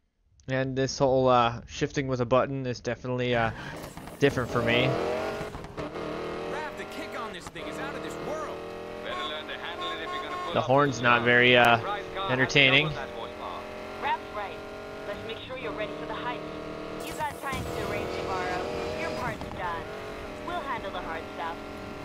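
Racing car engine in Need for Speed Payback revs and whines through gear shifts, loud and continuous with swelling pitch and occasional tyre noise, heard alone without talk.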